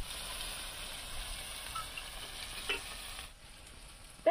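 Tomato fries in a pan with drumstick flowers, a steady soft sizzle broken by a few spoon scrapes and taps as it gets pressed down, ending in a louder clink.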